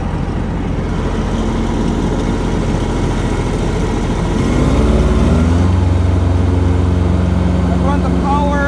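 Engine of a Kubota ZD326 zero-turn mower runs near full power with a loud, steady drone whose pitch climbs partway through as it revs up, then holds.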